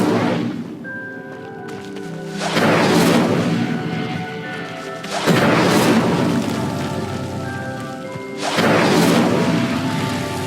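Incendio fire spell blasts in Hogwarts Legacy, three loud whooshing bursts spaced a few seconds apart, each swelling then fading into crackling fire over a musical backdrop.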